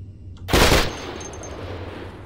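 A single sharp, loud gunshot burst at a console in the game Cataclysm: Dark Days Ahead, followed by a quiet tail and faint beeping tones.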